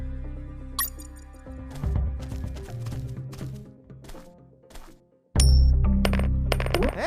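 A coin dropping on the ground in the stealth game UnMetal: a bright metallic ring and bounce near the start, followed by thuds and clattery hits over a game music loop that returns loudly near the end.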